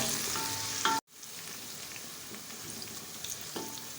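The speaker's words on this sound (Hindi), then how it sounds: "तो प्याज हमने हल्का सा इसको फ्राई करना है।" Onions fry in oil at the start of a chicken karahi, giving a close, steady sizzle that cuts off sharply and then returns as a quieter crackle and hiss.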